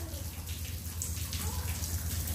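Water is splashed onto goats, making a steady hissing, spraying wash of noise with patters of droplets, while voices are faintly present underneath.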